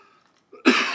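A single throaty cough bursts out loud and close during a mathematical physics lecture, after a moment of near silence.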